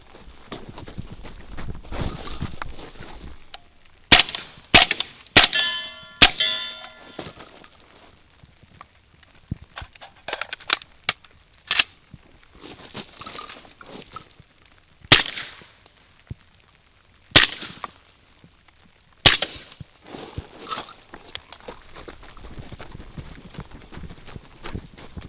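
Sharp gunshots from a short-barreled 300 Blackout rifle ring out in scattered single shots and quick bursts during a run-and-gun course, with some metallic pings from steel targets and a ringing cluster of rapid shots near the start.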